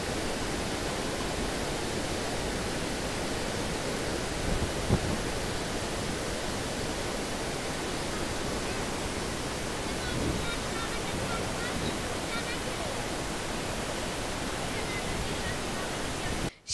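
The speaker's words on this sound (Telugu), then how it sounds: "అగో చూడురోల్లా మన శ్రీశైలంలో నీళ్ళు ఎట్లా వారుతున్నాయో." Flood water pours through the gates of the Srisailam dam project on the Krishna river. A heavy, steady roar of rushing water continues without a break and stops abruptly at the end.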